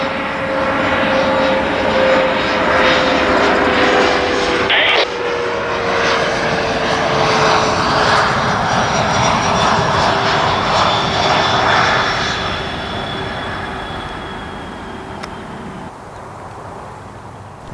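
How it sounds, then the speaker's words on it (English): An airplane near an executive airport roars loudly overhead with a droning engine tone that slowly falls in pitch, then fades gradually as it moves off into the distance. "you're right next to an executive airport with planes landing and taking off"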